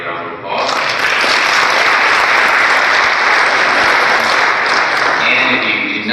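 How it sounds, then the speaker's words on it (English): A meeting audience gives a sustained round of applause at a county budget proposal meeting, dense and loud from start to finish with no talk over it. "Let's give Betty a round of applause."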